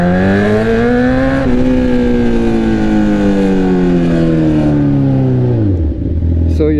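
A sport bike with a straight-pipe exhaust revs loudly and close, its raspy engine note climbing, holding, then sliding down before dropping off near the end.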